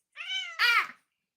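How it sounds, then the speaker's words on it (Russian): A cat gives a single clear two-part meow, rising and then falling, close to the microphone in an otherwise quiet room. "Ну невозможно не любити цю кошку."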